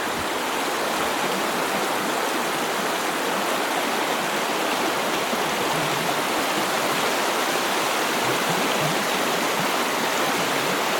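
The River Nethy rushes in a constant, broadband roar of flowing water, loud and steady throughout with no voices, in winter.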